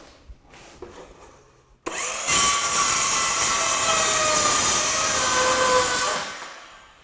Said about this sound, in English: I'm going to do this using the circular saw.